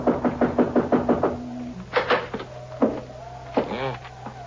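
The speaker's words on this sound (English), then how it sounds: "I guess we knock." Knocking on a wooden door of an old house with a porch, a radio drama sound effect: a steady run of sharp raps, then a pause and a few more knocks and creaks.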